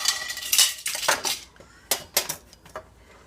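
Pots and pans clatter and clank on a stovetop during cooking, with several sharp metallic bangs and scrapes close by, some louder bursts early and a few scattered knocks later.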